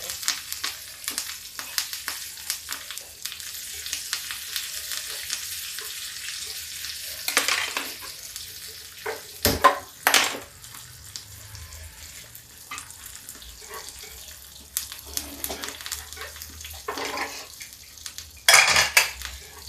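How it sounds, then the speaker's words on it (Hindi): Mustard seeds, asafoetida, cumin and curry leaves crackle and sizzle in hot oil for a smoky tempering, with scattered pops and the clink of a metal pan and spoon, close and moderately loud, no talking. "देखिए स्मोकी तड़का तैयार हो रहा।"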